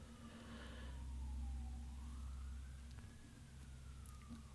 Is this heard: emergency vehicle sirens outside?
yes